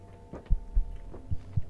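A heartbeat in the horror video game The Mimic thumps in low, soft double beats, a pair repeating about a second apart over a faint background hum.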